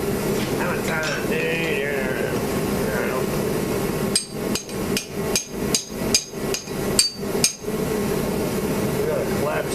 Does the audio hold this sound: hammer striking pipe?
yes